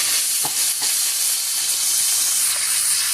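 Tomato paste hits a hot pan of wings karahi, setting off a loud, steady sizzle and hiss with faint stirring scrapes throughout, no voices.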